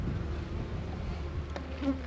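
Bees buzz softly in a steady, close hum as they gather around and tend their queen, with a few brief louder wingbeats near the end and no voices.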